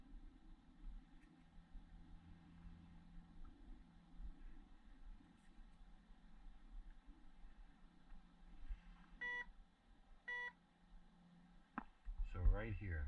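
A metal detector beeps twice over a buried target in a field, two short tonal bleeps standing out above steady background noise and rumble, with a sharper burst of sound near the end.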